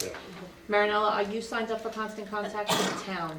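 A single sharp sneeze bursts out near the end of a town meeting, cutting through the conversation while people talk before and after it.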